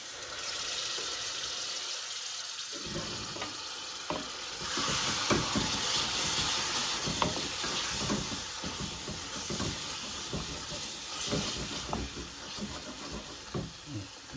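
Base gravy hits a hot pan for a chicken tadka curry and sizzles loudly, with a surge of crackling and bubbling after a brief pause, mixed with scraping stirs and close clatter.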